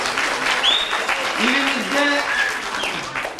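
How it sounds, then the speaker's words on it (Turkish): An audience applauds the Şahinbey mayor at a Turkish school awards ceremony for battery recycling, a short burst of clapping mixed with overlapping voices and a few whistle-like tones. "Buna Şahinbey Belediye Başkanımız da bir alkış hak ediyor."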